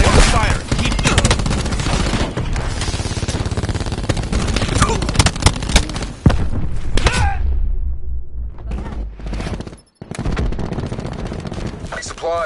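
Rapid, loud bursts of Annihilator weapon fire in a video game, sustained chatter of shots that briefly drops out near the end before resuming, with a voice speaking amid the din.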